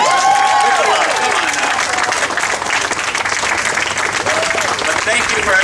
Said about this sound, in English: Come on now, we can clap for that.